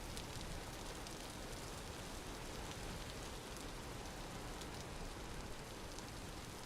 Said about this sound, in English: go out from the rain that's constantly happening at this time of year